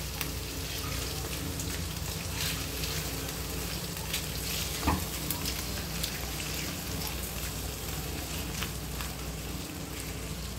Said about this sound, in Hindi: और इसे मैं अच्छे से फ्राई कर लूंगी।